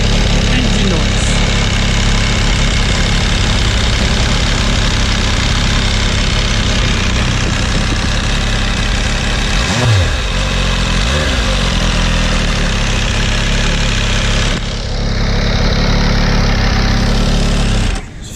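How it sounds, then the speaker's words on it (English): A loud MV Agusta Brutale 800 RR motorcycle engine starts and runs continuously, idling with a steady clattery rumble that shifts slightly midway, close up throughout. "So this is engine noise."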